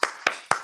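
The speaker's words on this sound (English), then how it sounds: "Give that man a round of applause." Three quick, sharp hand claps spaced evenly apart, close and fairly quiet, on a podcast set as a guest is welcomed.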